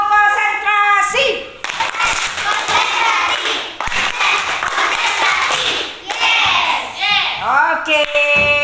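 A class of children performs a rhythmic concentration clap, crisp patterned hand claps and taps mixed with their chanting and voices, loud and close in a classroom.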